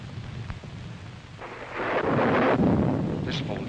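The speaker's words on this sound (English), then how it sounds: "You probably noticed there's a bad storm going on." Thunder during a bad storm in a 1943 mystery film, a low rumble that swells into a loud rolling crash over a background of rain, heard alone without voices.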